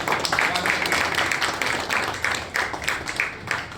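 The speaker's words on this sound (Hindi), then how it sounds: "ताली बजते रहे भाई" Clapping from the audience at a felicitation ceremony in Aurangabad, rhythmic and fairly close, with people talking over the claps throughout.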